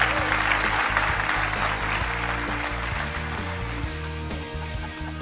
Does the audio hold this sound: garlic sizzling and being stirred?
no